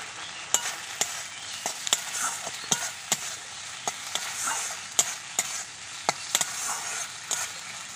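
Bengali masala of cumin, ginger, turmeric, chilli powder and tomato fried down in a pan for a batka fish curry, a faint sizzle with regular sharp clacks of a spoon stirring and scraping, alone.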